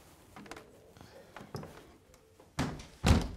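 House door shut firmly, a few light bumps and handling taps followed by two heavy thuds near the end, close by in a quiet indoor room.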